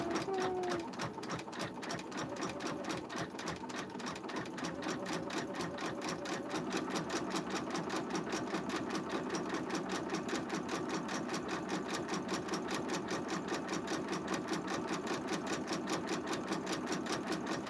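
An embroidery machine stitches a 3D puffy foam design onto a sweatshirt, its needle running in a fast, steady, continuous rhythm close by, with no talk over it.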